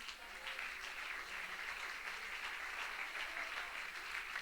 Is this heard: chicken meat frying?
no